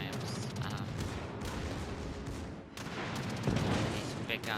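Big naval guns of a battleship firing in a warship video game, a dense run of booming gunfire and blasts filling the whole stretch at steady loudness, with a louder salvo near the end.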